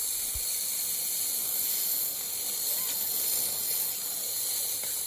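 A Bissell Steam Shot handheld steam cleaner blasting steam at grime, a steady, even hiss that runs without a break from start to finish.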